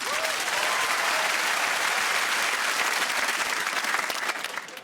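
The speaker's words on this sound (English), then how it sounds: "Round of applause for Wesley." Studio audience applause on a British comedy panel game show, a steady full round of clapping from a large crowd that holds loud throughout and starts to taper at the very end.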